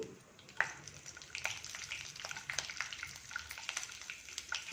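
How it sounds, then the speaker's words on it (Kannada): Mustard seeds, chana dal and urad dal crackle and splutter in hot oil in a pan, with continuous sizzling and scattered sharp pops throughout, close and moderately loud, no voices. "ಈ ಎಣ್ಣೆಗೆ ಸಾಸಿವೆ ಕಡಲೆಬೇಳೆ ಉದ್ದಿನಬೇಳೆ ಹಾಕ್ತೀನಿ ಇದೆಲ್ಲ ಸ್ವಲ್ಪ ಚಟಪಟ ಅಂತ ಸಿಡೀವಿ"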